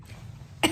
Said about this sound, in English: I am back in Barts with a rather annoying cough